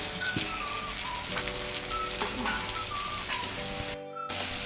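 Cluster beans and tomato fry in a pan with a steady, even sizzle and a few faint stirring taps, and it cuts out briefly near the end.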